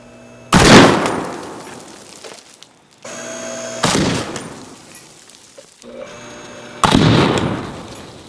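A giant indium fuse fed by 400 car batteries blows apart in three sharp, loud blasts a few seconds apart, each a sudden bang trailing into a crackling, sizzling roar that fades away.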